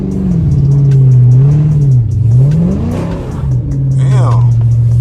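A Dodge SRT Charger's engine revs loudly while sliding through corners and intersections in a blizzard, a close, heavy droning roar that rises and falls with throttle, with brief tire noise near the end.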